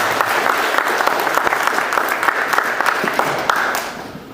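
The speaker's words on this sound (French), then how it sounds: "on peut l'applaudir quand même" Applause from an audience at a mayor's New Year address, dense steady clapping for several seconds that tapers off toward the end.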